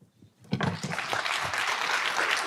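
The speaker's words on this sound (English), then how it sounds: "Keep that round of applause going for a moment" Applause from a luncheon audience on Capitol Hill swells after a brief quiet moment, then settles into steady, dense clapping that fills the room and holds until the end.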